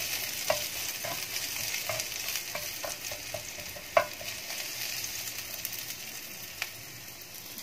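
Eggplant stir-fried in a pan with seasoning, a steady sizzle under repeated quick scraping strokes of a spatula, roughly a dozen taps and scrapes with one sharper knock midway, no voices.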